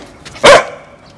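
A single loud, sharp bark from one of a pack of unfamiliar dogs reacting to a stranger, a short burst close by that rises out of a quiet background.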